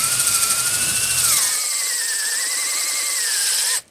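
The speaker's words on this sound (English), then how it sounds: "you need to pull the drill bit up and get the debris out of there because it clogs it up as you're drilling in" A drill bores into a wet wood log to make a rocket log stove, giving a loud, steady motor whine whose pitch sags briefly under load and then holds until it stops abruptly.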